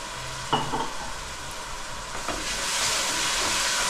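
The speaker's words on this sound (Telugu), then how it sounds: "కొంచెం టమాటాలు వేసుకుంటాం నూనె పై తేలే వరకు వేయాలి" Tomatoes fry in hot oil for an Indian egg curry, a dense steady sizzle that swells louder toward the end, broken by a few stirring scrapes near the start.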